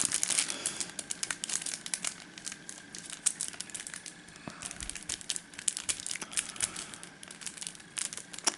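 Marvel Champions card packs are unwrapped close up, with continuous crinkling and tearing of plastic wrappers in quick irregular bursts.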